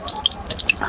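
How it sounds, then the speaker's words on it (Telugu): A lemon is squeezed by hand over chicken 65 dum biryani ingredients, its juice dripping in a quick run of small wet drips and splashes, close and fairly quiet, with no talking. "ఒక నిమ్మకాయని పిండేద్దాం."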